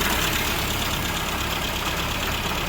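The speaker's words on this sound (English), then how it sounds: "I just wanted to show how stable the idle is as well as the mixture" A Mini engine, freshly fitted with a new carburetor, distributor and coil, holds a steady idle just over 1,000 RPM, a loud, even, close-up drone with no variation across the short stretch.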